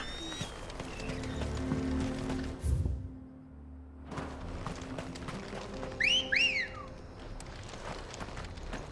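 A player's mount arriving in Final Fantasy XVI, with galloping hoofbeats, a whistle and a short horse whinny over background music.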